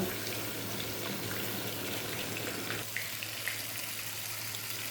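Water runs into chilli chicken masala in a pan, a steady close gush and splash that eases after about three seconds into a softer trickle with a faint sizzle beneath.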